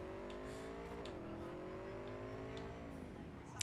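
A car driven recklessly in the video game Cyberpunk, a steady engine drone that shifts pitch as it revs and eases, faint and unbroken, with no voices.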